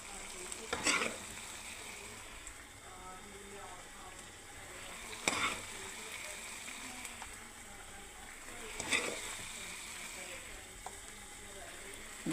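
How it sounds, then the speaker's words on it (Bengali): Poppy seed paste is poured and scraped out of a wok over a continuous low sizzle, with three sharp metallic scrapes of a spoon against the pan spaced a few seconds apart. "আমি কড়াই থেকে ঢেলে নিচ্ছি পোস্তটাকে"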